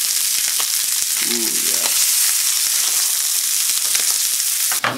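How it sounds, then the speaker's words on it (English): A whole fish sizzles in a frying pan with soy sauce, a loud continuous frying hiss close up, with a brief spoken exclamation partway through. "He's sizzling in the pan."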